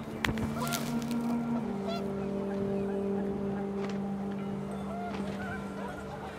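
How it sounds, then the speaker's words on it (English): Panicked geese honk repeatedly in the video game What Remains of Edith Finch, several overlapping nasal calls over a windy outdoor background, fairly close and steady. "The wind picked up, and panicked geese appeared and quickly went."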